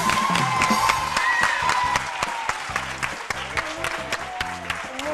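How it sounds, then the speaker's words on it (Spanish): A studio audience at a TV quiz show claps steadily for the green team, a dense, even burst of applause with a few faint cheers mixed in. "Muy bien, os han aplaudido."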